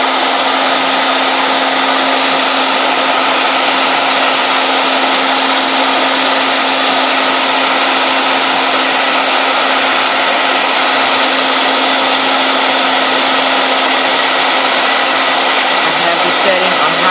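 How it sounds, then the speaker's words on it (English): A hair blow dryer runs continuously on its high setting, a loud, steady whooshing whine with a constant motor tone that holds unchanged throughout. "how to remove crayon marks from your wall with a hair blow dryer"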